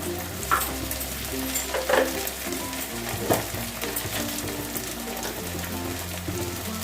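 Garlic and ginger paste fries in a pan for murighonto, giving a steady crackling sizzle, a low hum underneath, and a few louder stirring knocks spread through.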